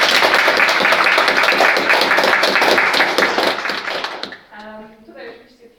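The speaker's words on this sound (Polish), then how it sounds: "Brawa na Lido." Applause at an exhibition opening in Poland: dense, loud clapping from a gathered audience runs for about four seconds, then fades as a voice starts talking.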